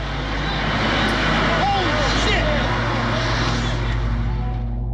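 A low-flying passenger jet roars over New York City on September 11, 2001, moments before crashing into the North Tower of the World Trade Center. The sound is a loud, steady, rumbling drone, with voices faintly mixed beneath it.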